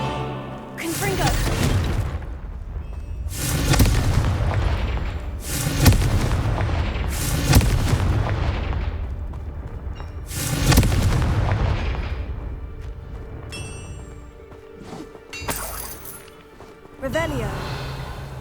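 Confringo blasting-spell explosions in Hogwarts Legacy go off in a series of loud booming blasts with crackling debris and gaps between them, while a player's voice speaks intermittently.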